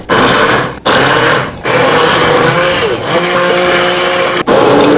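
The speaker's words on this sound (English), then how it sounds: "I'm going to use a hand blender, and I'm going to make it a nice smooth gravy" A hand blender whirs loudly through a curry gravy for butter chicken, a continuous high-pitched motor drone with shifting pitch as it churns, cutting out briefly twice before starting again.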